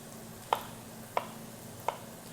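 A knife cuts through potatoes on a cutting board, three separate sharp knocks spaced about two-thirds of a second apart over a quiet background.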